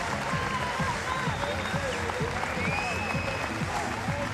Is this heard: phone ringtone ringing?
no